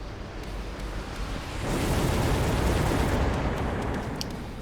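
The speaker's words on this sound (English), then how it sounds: "Missiles going, the first salvo never managed to do much" A missile salvo explodes in a video game battle, a dense broadband roar of blasts that swells after the first moment and rumbles on steadily to the end.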